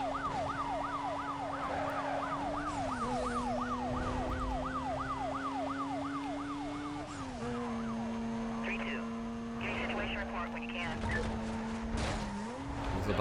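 Police sirens wail in Need for Speed Most Wanted (2005), a fast repeating yelp over a steady engine drone, loud and continuous, with a voice talking over the chase.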